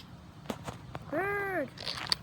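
A baby bird stuck in a bush gives one short, rising-and-falling call, fairly near, amid faint rustling and clicks.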